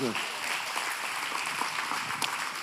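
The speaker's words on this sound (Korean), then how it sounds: "박수!" Applause from a church revival meeting audience fills the space steadily throughout, dense and fairly loud, with a voice speaking briefly over it near the start.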